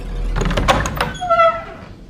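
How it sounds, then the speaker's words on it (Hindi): A door swings open and shuts by itself in a Hindi-dubbed South Indian horror-comedy film: a cluster of knocking rattles, then a drawn-out creaking squeal that fades, with no talking. "दरवाजा ऑटोमेटिक खुला,"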